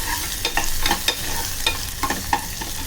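Green chillies and crushed garlic fry in a pan with a steady sizzle, broken by repeated scrapes and clinks as a spoon stirs them.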